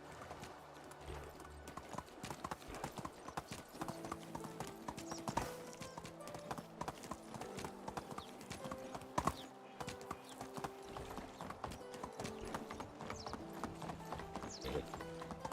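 A horse gallops in Medieval Dynasty with fast, continuous hoofbeats close up, and quiet game music plays underneath.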